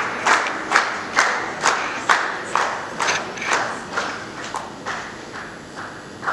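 Rhythmic clapping in unison at an Ethiopian film festival awards ceremony, with steady, evenly spaced bursts of about two claps per second that are fairly loud and continuous, then ease slightly toward the end.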